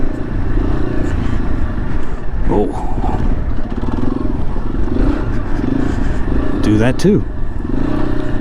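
A Yamaha XT250 dual-sport motorcycle rides at a low pace, its single-cylinder engine chugging steadily up close, with wind rumble throughout and a rider briefly talking over it.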